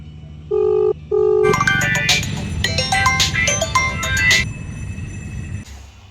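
A mobile phone rings for an incoming call: two short electronic beeps, then a bright melodic ringtone of rapid tones that plays for about three seconds before cutting off.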